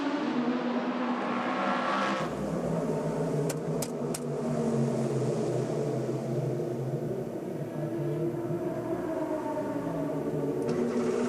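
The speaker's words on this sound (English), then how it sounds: "the number 42 car follows its teammate out onto the track" Le Mans prototype race car from the 2013 24 Hours of Le Mans pulling out of the pit lane onto the circuit, a steady loud engine drone with a busy pit-lane and crowd background throughout, plus a few short sharp clicks.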